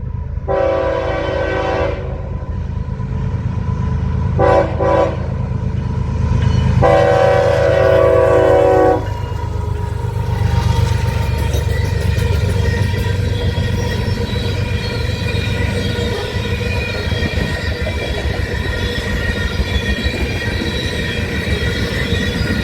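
A CSX garbage train rolls past on the rail line, its steady rumble and wheel noise running throughout, punctuated by several loud horn blasts early on, one long and others short, with no voices.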